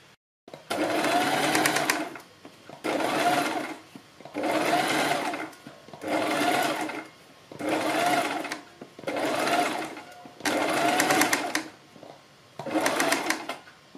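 An electric sewing machine stitches the neck pieces of a kurti in seven separate bursts of fast whirring, each a second or so long, split by short quiet pauses.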